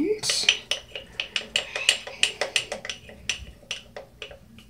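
A utensil stirs a cornstarch mixture in a bowl, ringing out in quick rhythmic clinks and scrapes, loud and close, about a dozen strokes in a steady beat with no talking.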